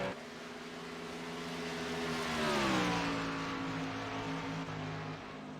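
Race cars entering the pits in a video game at Las Vegas Motor Speedway, faint engine drones whose pitch swells and bends past as cars roll by, fading slightly afterward.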